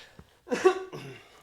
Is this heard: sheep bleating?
no